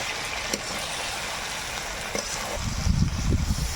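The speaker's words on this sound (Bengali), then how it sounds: "এবারে ফুলকপিটা একটু এর মধ্যে দিই মশলার সঙ্গে একটু নাড়াচাড়া করে জল দেবো" Spices hiss in hot oil in a pan as cauliflower is stirred in, a steady close sizzle that swells into louder, rougher frying with scraping near the end.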